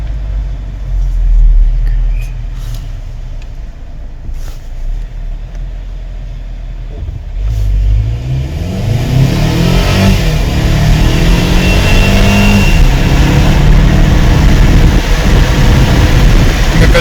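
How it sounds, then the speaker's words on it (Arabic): A Mercedes CLA 220 4Matic Premier Edition accelerates from 0 to 100, starting with a low idle, then the engine note climbs through rising gear sweeps into a loud, sustained roar. "هانتوما واحد العقيبه نوريكم 0 100 كيفاش كيدوز."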